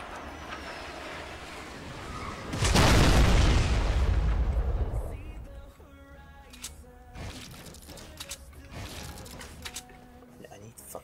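Rocket launcher rockets firing and exploding in a Fortnite Battle Royale match, a loud sustained blast roaring for a couple of seconds, then fading into scattered pops and clatter with game noise.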